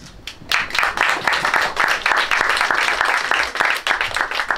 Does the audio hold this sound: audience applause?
yes